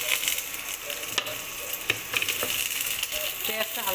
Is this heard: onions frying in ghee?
yes